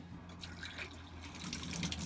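Water squirts and splashes into a cloning machine pump during cleaning, a steady close rushing, gurgling flow like a running tap, with no talking.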